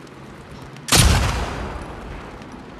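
A single loud gunshot bursts out in The Last of Us Part 2, its sharp crack followed by a long rumbling decay over low background game ambience.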